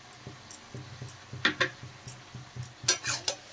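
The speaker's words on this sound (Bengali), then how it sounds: "আরেকটু নেড়ে চেড়ে ভালো করে দেখেন কপির সাথে আমি মিশিয়ে দিচ্ছি" Cabbage and peas stirred in a pan, a rhythmic series of close spatula scrapes and metallic clinks against the pan over a soft sizzle, several sharp strokes in quick succession.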